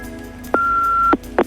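Answering machine tone on an office phone line: a short low beep followed by a longer, higher sustained electronic tone lasting about half a second, then a brief click and another blip, clear and close with no voices.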